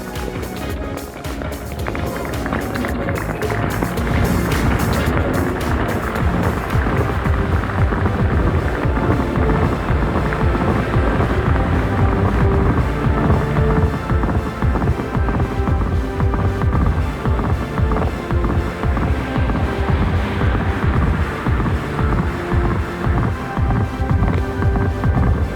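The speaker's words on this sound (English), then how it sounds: "By far the noisiest engine of all the cars on display today is this classic Team Lotus Formula One car" A classic Team Lotus Formula One car engine roars continuously at close range, a loud, dense rasping drone that builds over the first few seconds and holds steady throughout.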